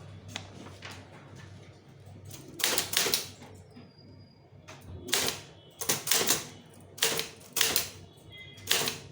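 A typewriter clacks away in irregular clusters of sharp keystrokes as a Tamil letter is typed, with a carriage bell ding partway through and short gaps between bursts.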